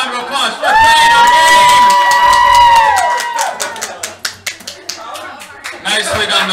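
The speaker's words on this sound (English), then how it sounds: "give him a round of applause for playing our" A live game show audience whoops and cheers loudly, then scattered applause breaks out, with a few voices shouting over it.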